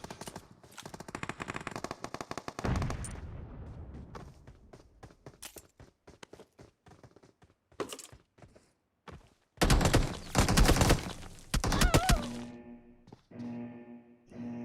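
Bursts of automatic gunfire from a PUBG-style battle royale game, loud rapid volleys separated by quieter gaps with scattered single shots and footsteps, swelling again near the end.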